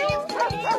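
A cartoon character's voice imitates a dog barking, two short woof sounds in quick succession over light background music.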